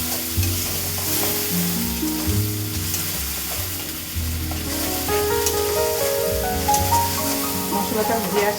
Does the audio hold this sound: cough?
no